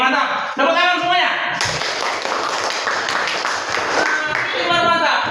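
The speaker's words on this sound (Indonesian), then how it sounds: "Tepuk tangan semuanya." A classroom of students claps hands together in a burst of fast, irregular clapping, with a teacher's voice heard speaking over the start and end of the round.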